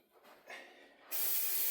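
3M spray adhesive blasts from its nozzle in a loud, steady hiss that starts abruptly after a few quieter, short spurts, coating a 1991 Dodge Grand Caravan headliner.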